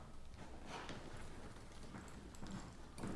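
Horse hooves clip-clop faintly on the ground during reining work, a steady run of soft thuds in a quiet, noisy background.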